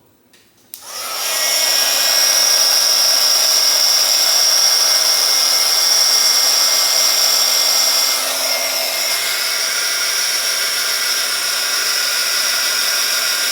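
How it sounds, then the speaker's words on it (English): A craft heat tool warms embossing powder until it melts, producing a loud, even fan-and-heater hiss that starts abruptly and continues steadily to the end with no one speaking. "Grab your heat tool."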